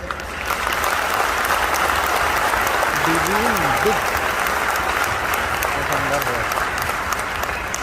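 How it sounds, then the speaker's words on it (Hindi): Seminar attendees at a network marketing talk clap in a dense, continuous, loud round of applause, with a few voices faintly audible underneath. "तालियों की एक परिभाषा है, जबरदस्ती कभी नहीं बजानी, लेकिन जब बजानी है जबरदस्ती।"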